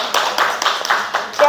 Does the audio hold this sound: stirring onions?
no